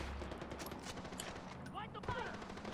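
Rapid pistol fire in Far Cry 4, a fast stream of closely spaced shots under a voice talking over the gameplay.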